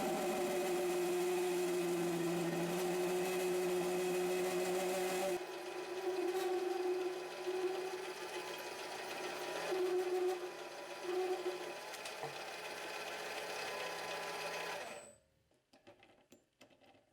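Metal lathe taking a finishing cut on a part, a steady whirring drone with tonal whine that changes partway through, running alone for several seconds before shutting off into near silence.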